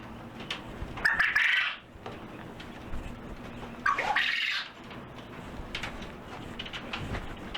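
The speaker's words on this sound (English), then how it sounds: "The boy quail behind me likes me talking. They crow a lot when I talk." Male quail crow twice in close, loud raspy bursts a few seconds apart, with softer chirps and background clatter between calls.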